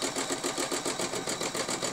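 A sewing machine stitching fabric along a quilting ruler, a fast, even mechanical whirr with a regular pulsing rhythm of the needle, close and continuous with no talk.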